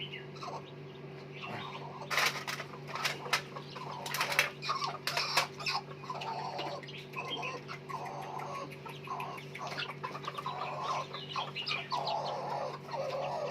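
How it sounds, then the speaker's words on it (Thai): Two broody hens settled on a shared clutch of eggs give soft, scattered clucks and rustles close by, over a constant low hum. "พอดีมีแม่ไก่สองตัว มันจะต้องการฟักไข่มันไปไข่ที่เดียวกัน"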